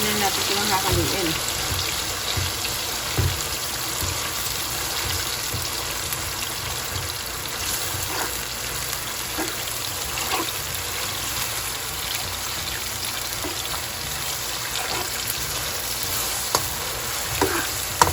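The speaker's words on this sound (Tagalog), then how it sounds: "sisiguraduhin natin mainit na mainit yung mantika bago natin ilagay yung ating karne para mas maganda yung pagkaka-deep fried niya" Pork deep frying in very hot oil for Pangasinan pigar pigar, stirred now and then: a steady, dense sizzle with scattered crackles and occasional scraping knocks, with some voice underneath.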